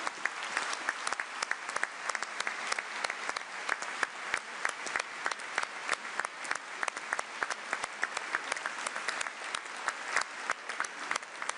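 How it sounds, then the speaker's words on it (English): A large audience at a gathering of EU leaders in Antwerp on industry claps steadily for workers in battle gear heading to the stage. The applause is even, continuous and fairly close, with crisp individual claps throughout and no pause. "And give them a round of applause."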